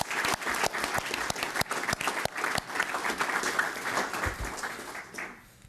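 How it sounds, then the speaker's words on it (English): Audience applause at a startup pitch competition and demo day, a dense, steady wash of clapping hands lasting several seconds before fading out at the end. "So just one more hand of applause for these amazing entrepreneurs"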